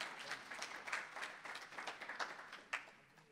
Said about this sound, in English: Let's give Danny a round of applause.